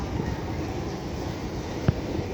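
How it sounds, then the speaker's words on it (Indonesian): Commuter trains stand at the Jakarta Kota station platforms, giving a low, steady rumbling hum with one brief sharp knock near the end. "Di peron 3, 2, dan 1 udah ada"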